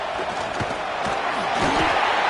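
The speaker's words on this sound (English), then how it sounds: "And here comes the noise. This crowd is trying to inspire this defense to make a big red zone stop." A stadium crowd at an American football game roars to fire up the defense near the goal line. The roar is loud and continuous, with a commentator's voice running over it throughout.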